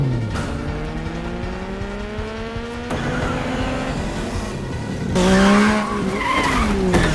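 A motorcycle races to a gang's hideout in the action film Silent Night (2023): loud, continuous engine revving with rising and falling pitch, sharp gear changes and squealing tyres close by.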